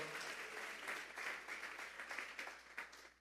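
A church congregation claps together during a Thursday doctrine service, a dense, fairly faint round of applause rising and falling for about three seconds.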